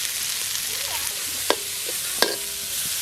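Green chillies and onions fry in a pan outdoors on a farm during a goat blood fry, giving a steady bright sizzle broken by two sharp metallic clinks of a stirring utensil.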